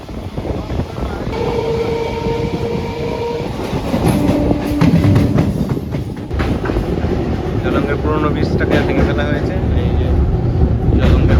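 A loud, steady rumble of a crowded train in motion, with rattling carriages and a busy murmur of voices throughout.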